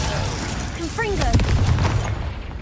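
A Confringo spell explosion in Hogwarts Legacy, a heavy booming blast within a dense layer of game combat noise, with a voice speaking briefly.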